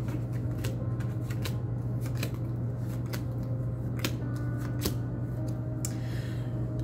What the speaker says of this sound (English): you just take this deck, please, and you just cut it where it needs to be cut to speak